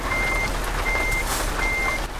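Trucks reversing in Euro Truck Simulator give off loud, evenly spaced electronic reversing beeps over a constant low diesel engine drone, close by and with no voices.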